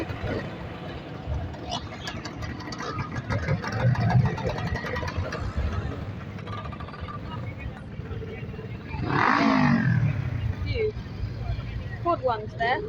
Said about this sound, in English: all the little Vespas